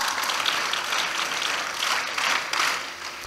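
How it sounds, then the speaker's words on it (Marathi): Audience clapping at a live motivational lecture, a dense sustained round of applause from a large hall crowd, steady and fairly loud throughout with no voices. "हसत हसत वाजवा टाळ्या"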